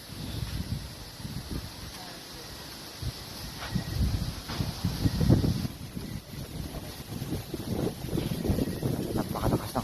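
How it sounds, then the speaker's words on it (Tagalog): Strong wind gusts at a campsite buffet the microphone for about ten seconds in a loud, continuous, uneven roar with surging peaks and a steady high hiss underneath. "Napakalakas ng hangin."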